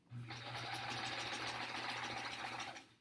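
A sewing machine with a built-in walking foot runs steadily through a quilt for about three seconds, a close, even motor whir with a rapid needle chatter that starts and stops cleanly, and no one speaking.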